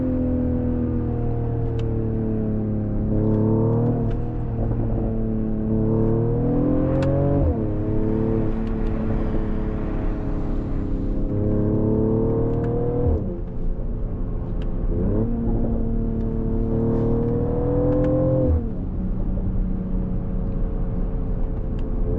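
A 2024 Mercedes-AMG GLE 53 Coupe facelift in Sport Plus mode pulls hard, its engine note rising and dropping through several gear changes, with short sharp exhaust pops at the shifts over a constant road rumble, no talking.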